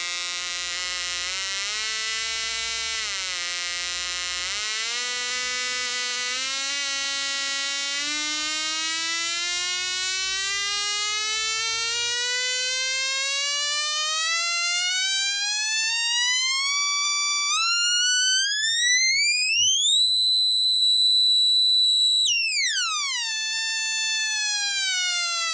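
A two-transistor audio oscillator puts out a buzzy electronic tone that sweeps steadily upward in pitch as its frequency is adjusted, then drops back down near the end, loud and continuous throughout.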